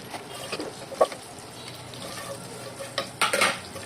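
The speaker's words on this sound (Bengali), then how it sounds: "আর এখানে আমি এখন তেল দিয়ে দিচ্ছি, এলাচি, দারচিনি, তেজপাতা এগুলো দিয়ে দিচ্ছি, লবঙ্গ, গোলমরিচ" Whole cardamom, cinnamon, bay leaf, cloves and black pepper frying in hot oil in a pan, a soft steady sizzle with a few clinks and stirring scrapes, louder bursts near the end.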